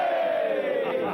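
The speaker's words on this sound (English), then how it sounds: "One last sea cheer for Admiral Trelawney." A crowd of sailors gives a single sustained cheer of "hooray" for an admiral aboard ship, loud and close, with many voices merging into one falling shout.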